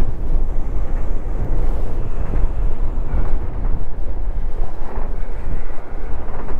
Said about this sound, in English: is it windy down here